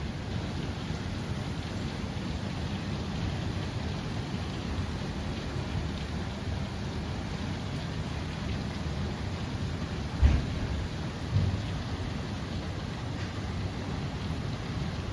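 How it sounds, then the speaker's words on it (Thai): A hailstorm pours steady, dense rain with pattering hail on surfaces, and a brief low thunder rumble breaks through midway, all continuous and without talking. "ตอนนี้ลูกเห็บกำลังตกครับ"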